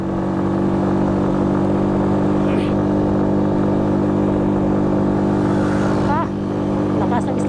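Two motorcycles, a Yamaha Sniper and a Rusi Flash 150, race uphill with their engines droning loudly and steadily close by, a brief higher whine rising near the end.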